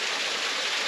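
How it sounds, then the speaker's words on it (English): Backyard waterfall heard as a brief, steady wash of falling water, a smooth hissing rush at moderate volume with nothing else over it. "we have a nice waterfall in the backyard"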